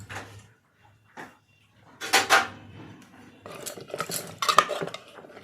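A spoon stirs and scrapes inside a pot of lentil dal with salt and turmeric, giving intermittent metallic clinks and scraping that come in scattered bursts, close and moderately loud.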